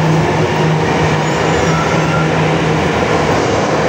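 Riding aboard a Jakarta MRT train, a loud, steady roar of motion fills the carriage with a constant low hum and no voices.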